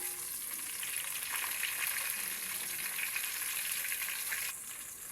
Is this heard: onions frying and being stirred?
yes